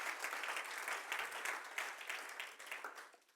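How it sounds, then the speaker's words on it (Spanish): A congregation claps during a Sunday church service, a brisk burst of applause that rises quickly and then fades away over a few seconds. "Dele un aplauso a la gloria del Señor."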